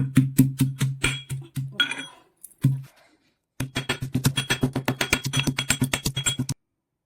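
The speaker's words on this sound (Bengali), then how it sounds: "ছোট্ট হামন্দিস্তার মধ্যে ওই কাঁচা লঙ্কা দিয়ে দিলাম আর ছুলি রাখা রসুন দিলাম এখন একটু থেতো করে নেবো একসঙ্গে সব কিছু" Green chillies and peeled garlic pounded in a small mortar and pestle: quick, steady, close-up strikes with a hard, clinking edge, in a short burst, a brief pause, then a longer even run of rapid thuds, with no talking.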